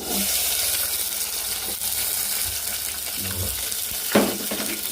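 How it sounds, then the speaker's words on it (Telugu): Green chillies and onions fry in a pan for Maggi noodles, giving a steady close sizzle throughout with a brief louder clatter near the end. "పచ్చిమిర్చి ఉల్లిపాయలు వేసుకున్నాం"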